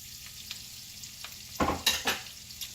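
A ribeye steak sizzles in a cast iron pan with a soft, steady frying hiss, then a few louder crackling, scraping bursts near the end.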